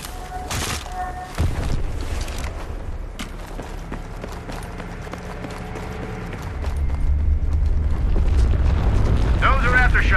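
Deep aftershock rumbles roll through a Battlefield 3 co-op battle, a low sustained booming that swells louder in the second half, with scattered impacts and voices over it.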